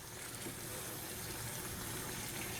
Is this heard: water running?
yes